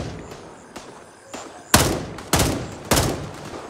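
Gunfire in the shooter game Gray Zone Warfare: a few lighter pops, then three loud, heavy shots about half a second apart, each with a ringing tail, with no voices over them.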